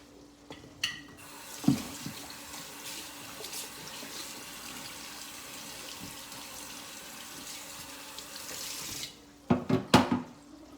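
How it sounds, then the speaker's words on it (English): A kitchen tap runs steadily into a sink while a cutting board is washed, a continuous hissing stream bracketed by clunks and knocks of the board and handling at the start and finish, with no talk. "Just let me wash the board."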